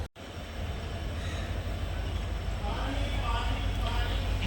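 The Tutari Express 11003 runs on the Konkan Railway between Dadar and Vaibhavwadi, heard as a steady, loud rumbling roar of the moving train that holds constant throughout.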